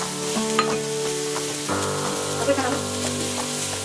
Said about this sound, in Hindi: एक पैन में थोड़ा बटर गरम करेंगे और डाल देंगे इसमें कटी हुई प्याज